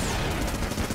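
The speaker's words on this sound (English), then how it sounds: "It's okay, I got the Vulcan cannon." A Vulcan cannon in the Enter the Gungeon video game fires in a dense, continuous burst of rapid shots, loud and close, filling the whole brief moment without a break.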